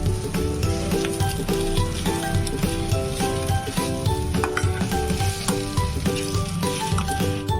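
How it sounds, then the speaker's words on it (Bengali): Samosa filling of mashed potato pieces and onion fries in a pan. It gives a steady, close sizzle, with occasional stirring scrapes and no talk. "নিয়ে এটাকে 4 থেকে 5 মিনিট মতো ভাজা ভাজা করে নেব।"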